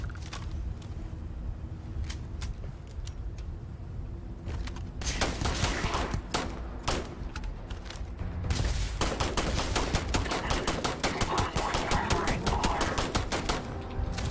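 Enemy weapons fire in a Starfield firefight, sparse shots at first, then dense rapid bursts of gunfire that grow louder and hammer on almost continuously.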